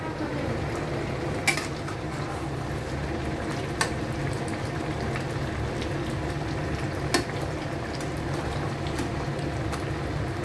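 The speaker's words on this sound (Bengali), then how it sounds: "এখন একটু নেড়ে নেব।" A pan of chorchori made with chitol fish head bubbles and sizzles steadily throughout, with a few faint spoon taps against the pan while it is stirred, close by, with no talking.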